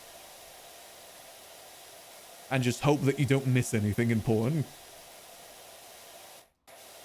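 A pressure washer sprays in the video game PowerWash Simulator as a steady, soft hiss that runs the whole time, with a voice talking over the middle stretch.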